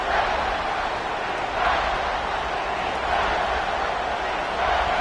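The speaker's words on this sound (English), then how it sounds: "The Tide crowd rolling noise down onto Saban Field on 3rd down." A big college football stadium crowd roars on third down at Saban Field, with a dense, steady wash of cheering and noise that swells slightly in waves and never lets up.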